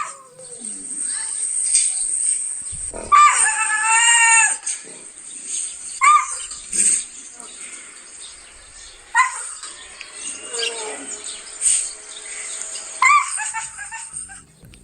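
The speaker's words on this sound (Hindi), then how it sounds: "ये बाघ जैसी आवाज़ आपको कतई नहीं लग रही होगी। मैंने भी जब आवाज़ अकेली सुनी थी तो मुझे भी ये कुत्ते जैसी आवाज़ लगी थी, लेकिन यकीन मानिए ये बाघ की ही आवाज़ है" A tiger gives repeated high-pitched, dog-like calls, a longer bright burst near the start followed by shorter yelps spaced through the stretch, with soft background noise between.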